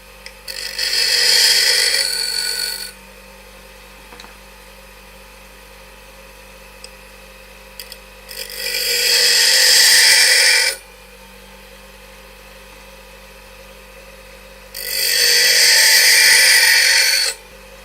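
A tool edge is ground to form its relief angle in three separate bursts of harsh hissing abrasion, each lasting about two to three seconds, with quiet pauses between and no one speaking.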